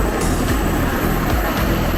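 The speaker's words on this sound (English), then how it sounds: "Little twin-engine prop plane." Steady, loud drone of a small twin-engine propeller plane flying out of Manila, a dense continuous engine roar with faint rhythmic pulsing throughout, no voices over it.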